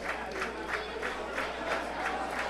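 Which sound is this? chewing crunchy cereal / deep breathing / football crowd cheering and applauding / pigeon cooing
football crowd cheering and applauding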